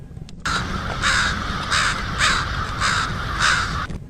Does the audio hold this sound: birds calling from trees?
yes